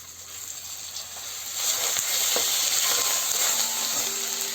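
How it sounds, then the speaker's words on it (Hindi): Karnali (stinging nettle) greens fry in a hot pan for a Uttarakhandi saag, giving a continuous hiss and sizzle that swells louder partway through, with faint stirring clicks and no talk. "और अब बारी है कर्नाली को फ्राई करने की।"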